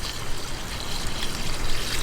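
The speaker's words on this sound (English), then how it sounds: "I'm just going to pour them right into the container." Water pours in a steady, continuous splash from a bag into a container holding moray eels for a backyard pool pond, close and fairly loud with no talking.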